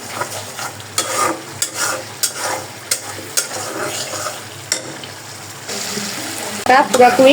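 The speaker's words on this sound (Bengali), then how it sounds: "লবণ ধনিয়া হলুদ মরিচ দিয়ে এখন এই যে মশলাটাকে আমি ভালোভাবে কষাই নিব একবারে" Salt, coriander, turmeric and chili with ginger-garlic paste being fried and stirred in oil in a pan, with a steady sizzle and repeated spatula scrapes close by, a brief voice near the end.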